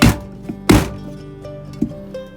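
A few sharp knife chops through soft, spoiled parts of a vegetable against a cutting board, spaced unevenly, close and fairly loud, with a faint low hum underneath.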